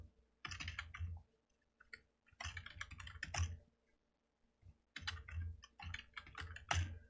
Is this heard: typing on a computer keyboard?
yes